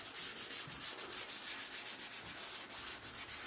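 Light, rhythmic rubbing strokes of sandpaper on a chalk-painted wood dresser, repeating quickly and evenly back and forth, close and fairly soft.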